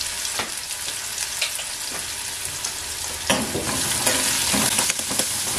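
Onion, carrot and green chilli for sabudana fry sizzle in a pan over lowered heat, a steady crackle punctuated by the scrape of stirring, close and clear, with no talk.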